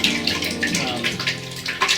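Wet charcoal water swirled around in a container, a continuous close sloshing and gurgling with gritty splashes, steady throughout with a brief burst near the end.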